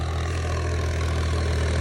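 Massey Ferguson tractor engine running steadily in first gear at a constant low throbbing idle, loud and close, with no talk over it.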